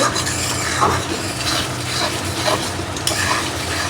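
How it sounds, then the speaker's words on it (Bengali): Prawns sautéing in hot oil in a pan produce a dense, continuous close-up sizzle with soft stirring scrapes, no talk over it. "চিংড়ি মাছটা ভালো করে কষানো হোক"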